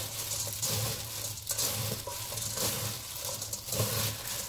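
Sticky rice mixture for savory xôi mặn with Chinese sausage being tossed and stirred in a pan, a continuous soft sizzle with rhythmic scraping swells, close and moderately quiet.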